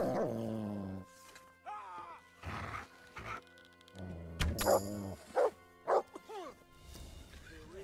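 A dog in Kingdom Come: Deliverance yelps and whimpers as it is struck, several sharp, close yips rising in a quick burst toward the end, over earlier groaning and background game sounds.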